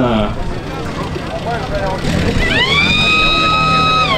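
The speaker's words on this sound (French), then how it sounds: "voilà la sirène." A siren on an old drinks-serving vehicle, modelled on a beer and cola truck, winds up and holds a steady rising wail through the final seconds, loud over a background of people talking.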